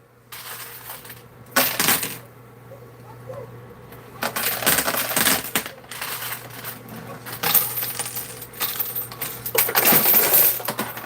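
Gold coins clatter and rattle down inside a coin pusher arcade machine in several sharp bursts, close and loud over steady arcade machine hum.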